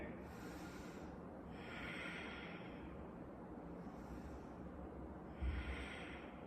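Slow yoga breaths taken while holding a pose, three soft airy breaths drawn through the nose, close and quiet, with a faint thump near the end.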